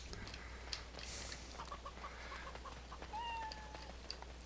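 A cat in the video game Dragon Age Awakening gives a few short, faint meows over quiet in-game ambience, with a thin rising cry near the end.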